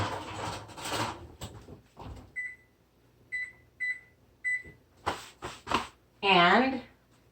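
A home kitchen oven is loaded with turkey and stuffing meatballs and then set: a few muffled clunks come first, then a series of short, crisp electronic beeps close by, with a brief voice near the end.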